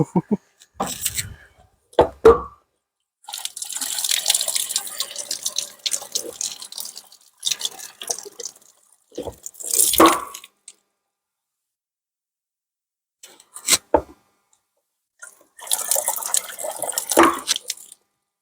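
Water from a water bowser tank runs and splashes in intermittent bursts, stopping and starting with quiet gaps between pours, close by.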